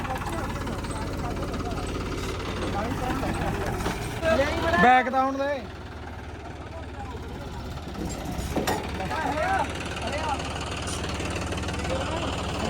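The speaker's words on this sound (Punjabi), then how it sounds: "ਕਿਵੇਂ ਚੱਲਦੇ ਆ ਟਰੈਕਟਰ" Tractor engines run at a village tractor tournament in Khadak Singh, Punjab, a steady rumbling drone with idling and knocking under loud crowd talk, plus a brief rising and falling engine rev near the middle.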